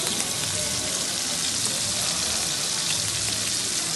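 Garlic and chili sizzle steadily in a hot pan of oil for a pasta dish, a dense, continuous frying crackle that stays close and loud throughout with no voices.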